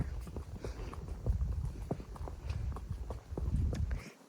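Unshod hooves of a former competition horse walking out on a first ride, a steady clip-clop of close, fairly loud footfalls in an even rhythm with no talk over them.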